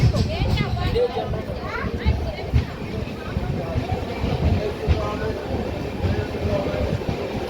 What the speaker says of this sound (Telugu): గాయస్ మనమైతే బయలుదేరుతున్నామండి మిర్యాలగూడ రైల్వే స్టేషన్ నుండి.